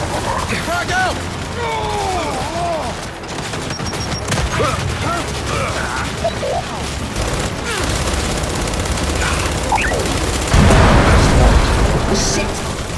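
Combat in Gears of War 5 with a frag grenade blast and rattling gunfire, a continuous loud mix of shots and booms under shouted voices, with a heavier burst near the end.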